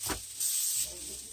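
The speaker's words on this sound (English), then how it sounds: "a little bit of cooking spray, both sides" A short, steady hiss of aerosol cooking spray onto cobia fillets, close up, lasting under a second against faint background noise.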